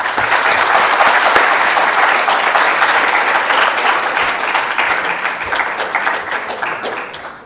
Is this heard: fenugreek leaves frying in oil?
no